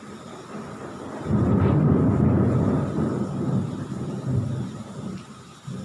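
A deep, heavy rumble of thunder swells after about a second and rolls on at a steady loudness before tailing off, with no voices over it.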